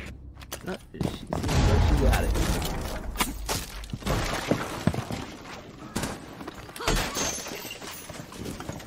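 Chaotic rumbling booms and crackling blasts in Rainbow Six, loud and continuous, with sharp bursts scattered throughout and voices mixed in.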